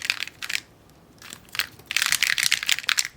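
An MGC Square-1 puzzle cube turned quickly during a solve, giving bursts of crisp, clicky plastic clacking separated by short pauses, close and fairly quiet with no voices.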